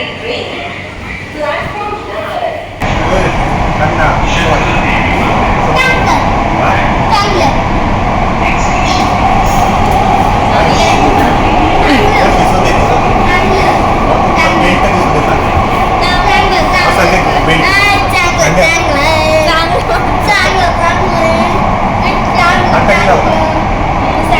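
Loud, continuous rumble and roar of a Mumbai Aqua Line underground metro train in motion, with people talking throughout.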